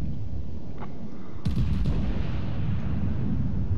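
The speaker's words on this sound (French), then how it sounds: "La salve a été tirée." Battleship Bayern firing a gun salvo in World of Warships: a single deep, heavy boom rolls out over a constant low rumble of game ambience, with no talking.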